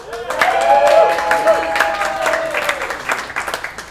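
An audience at a live podcast show in Denver claps for Jess, swelling quickly and then thinning out into scattered claps, with some voices and cheers mixed in.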